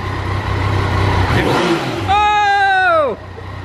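A motorcycle engine revs up hard close by, its whine climbing and holding before cutting off abruptly, with voices and outdoor noise around it.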